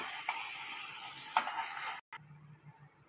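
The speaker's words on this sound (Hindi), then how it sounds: "और इसको अभी हमें मिक्स कर देना है अच्छे से।" Paneer bhurji with spices being stirred in a pan, a bright steady sizzle with a couple of spoon scrapes, then a sudden cut to a quieter, fainter sizzle.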